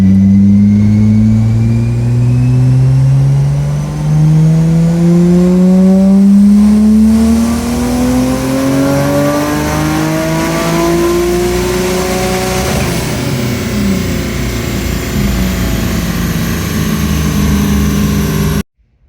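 A Nissan GT-R's engine revs up loudly in one long sweeping pull, its pitch climbing steadily for over ten seconds before dropping back and holding a lower drone, with no voices, close and powerful throughout.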